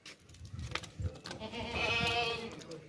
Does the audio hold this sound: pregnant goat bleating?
yes